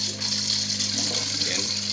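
Water flowing through the pipes of a backyard aquaponics system with catfish fingerlings, a steady close hiss and gurgle running throughout over a low pump hum, with someone talking faintly under it.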